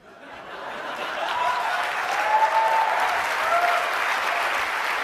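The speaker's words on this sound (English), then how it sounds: "Clap it up" A conference audience bursts into applause after a talk, the dense clapping swelling within the first second and holding steady throughout, with a few scattered voices and chuckles mixed in.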